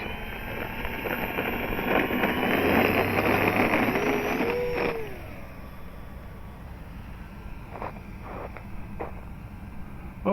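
The engine of an Avios Bushmule aircraft in a flight video game runs at normal thrust, a continuous droning hum that swells, then drops to a lower, steadier level partway through, with faint tonal whines over it.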